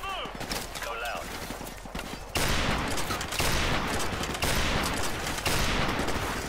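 Heavy sustained gunfire in Call of Duty Modern Warfare Remastered, loud overlapping volleys erupting partway in and pounding on to the end, with a voice speaking over the quieter opening.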